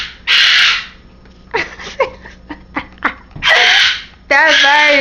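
A loud pet bird gives harsh, piercing calls in bursts, with several long screeching blasts and shorter squawks in between, close and dominating the room, while people talk and laugh nearby.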